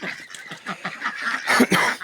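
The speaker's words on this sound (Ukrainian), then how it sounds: "качери вже там виясняють відносини" Drakes squabbling on a poultry farm, a run of rough, rasping quacks and honks in quick irregular bursts, close by and fairly loud, rising to a denser flurry near the end.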